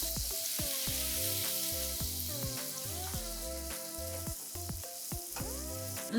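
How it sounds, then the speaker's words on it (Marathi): Ginger-garlic paste fries in oil with a constant close sizzle, while a musical tonal pattern runs underneath and there is no speech. "आलं लसणाचा कच्चा वास जाईपर्यंत वाटण छान तेलात परतवून घ्यायचं"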